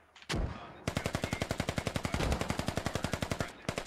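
Rapid automatic gunfire in the military video game Squad: a single sharp shot, then a long steady burst of about two dozen evenly spaced, loud, close rounds lasting nearly three seconds.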